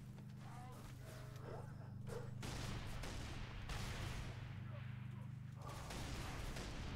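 Gunfire in Halo 3 ODST, with repeated shots and explosive bursts over a steady low game hum that carries through the whole stretch, fairly distant and mixed with in-game clatter.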